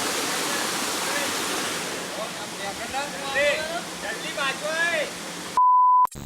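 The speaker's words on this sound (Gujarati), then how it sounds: "ફાઇનલી ઝરણા ઉપર પહોંચી ગયા" A waterfall rushes in a steady, full roar up close while people talk over it, followed by a short electronic beep at the end.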